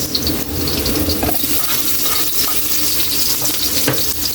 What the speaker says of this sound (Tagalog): medyo brown na yung bawang natin. Ilalagay na natin yung sibuyas.